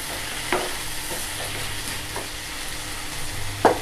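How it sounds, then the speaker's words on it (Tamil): Vermicelli upma with vegetables being stirred in a hot pan, giving a steady soft sizzle with a few scraping strokes and a sharper clatter near the end, close up. "கொஞ்சம் கிண்டி கொடுத்துக்கலாம்."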